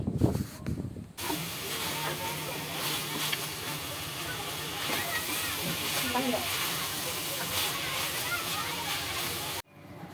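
Water poured into a hot pan of browned chicken curry gives a loud, steady steaming hiss and sizzle that runs unbroken for about eight seconds after a brief clatter.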